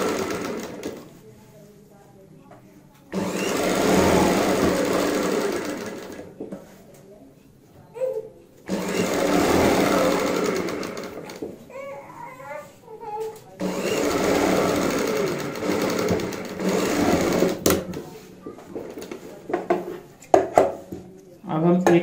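Domestic sewing machine stitching the facing of a boat neck kurti, running in several long loud bursts separated by pauses, with fabric handling and someone talking in the gaps.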